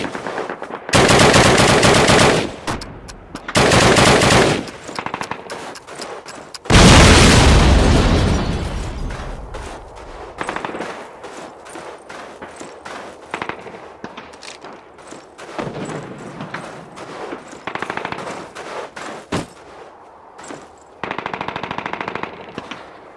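Call of Duty PC combat at Hurtgen as a flak gun is blown up: loud bursts of machine-gun fire and a heavy explosion with a long rumbling decay, followed by scattered gunshots and further bursts.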